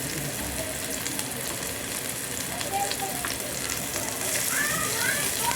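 Onions, garlic, ginger and chilli going into a frying pan for village-style chicken with arum leaves, a low crackling sizzle that swells toward the end, with a voice talking over it.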